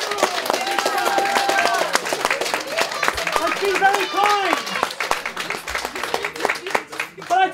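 A crowd at an outdoor community event in Finsbury Park claps in dense, steady applause while someone talks over it.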